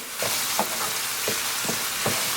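Tomatoes and tomato sauce being stirred in a frying pan for baingan bharta, a steady sizzle underneath with several soft, spaced scraping strokes of the spoon, close and fairly loud, no voices.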